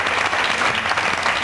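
Studio audience applauding on a French television game show set, a dense, steady wash of clapping throughout the short burst with no voices over it.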